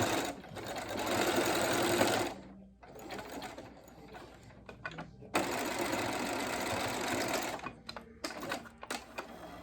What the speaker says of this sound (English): I just do a straight stitch up and down.